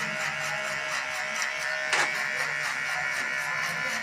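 Electric hair clippers buzz steadily at the zero setting while cutting a skin fade on a burst taper haircut, a close, constant high whine with a brief louder scrape midway.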